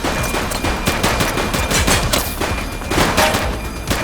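Dense, loud automatic gunfire from a suspect rattles continuously in The Precinct gameplay, sharp repeated shots packed tightly together with no talk.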